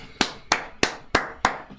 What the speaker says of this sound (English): Let's clap it up to that.